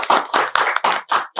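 Audience clapping at a New Year special entertainment show, six or so quick bursts of hand claps in an uneven rhythm, close and crisp, with brief gaps between them.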